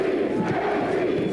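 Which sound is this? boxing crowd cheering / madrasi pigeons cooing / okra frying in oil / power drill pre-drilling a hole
boxing crowd cheering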